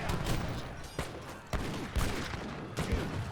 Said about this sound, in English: And now here comes the organ guns